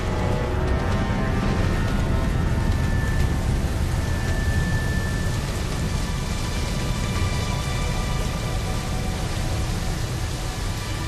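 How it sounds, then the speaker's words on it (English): Steady heavy rain with a dense, constant hiss and low rumble that may hold distant thunder, loud and unbroken throughout with no voices. "The carbon dioxide mixes with water and creates acid rain."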